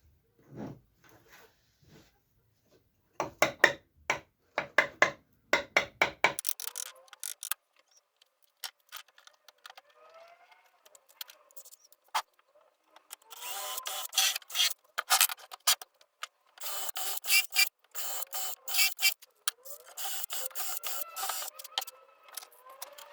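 A cut cover is fitted onto a homemade belt sander, making bursts of dry rubbing, scraping and clicking handling sounds, close and intermittent, with quiet gaps between and no talk.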